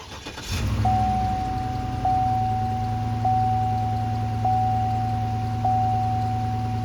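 A 2007 Cadillac DTS with a secondary air (smog) system fault cranks briefly and catches, then settles into a steady idle hum while a chime repeats regularly at an even interval.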